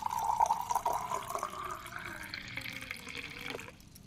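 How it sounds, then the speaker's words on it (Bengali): Water pours into a ritual pot during an Akshaya Tritiya puja, a close, gurgling stream whose tone rises as the pot fills over about four seconds, then tapers off. "সব আগে ঘরটা জল পূর্ণ করে নিচ্ছি"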